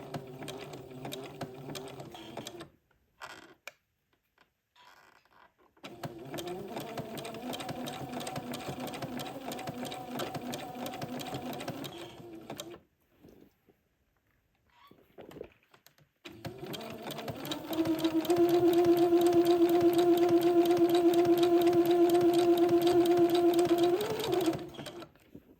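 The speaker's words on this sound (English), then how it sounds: "Okay, this will take me a minute to get this zigzagged all the way down." A sewing machine zigzag stitching entredeux to insertion lace, running in three loud, close whirring bursts separated by pauses, with the last run steady and longest.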